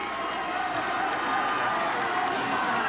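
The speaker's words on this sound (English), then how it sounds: "And listen to that crowd." A large crowd at a 1995 state title high school basketball game between Holy Cross and Windsor roars in a steady, dense wall of cheering that fills the whole moment.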